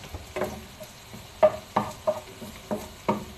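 Garlic cooks in olive oil in a pan with a soft background sizzle, while a utensil stirs and taps against the cookware in a series of sharp, irregular clicks.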